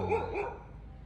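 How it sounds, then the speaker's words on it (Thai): A dog at a Buddhist temple in San Kamphaeng, Chiang Mai, lets out two quick, moderately close barks, followed by a short fading trail of background noise. "หมาก็เห่าเนาะ หมาเห่าเห็นแล้วเนี่ย"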